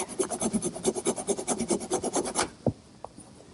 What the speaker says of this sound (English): now is when I trim off the excess biscuit on the front assembly